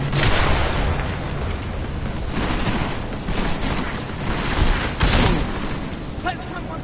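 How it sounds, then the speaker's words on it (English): Gunfire and explosions in Deus Ex Mankind Divided, a dense fusillade of shots and booming bursts with a sharp loud blast near the end, while voices shout through the battle. "Lay down some cover fire."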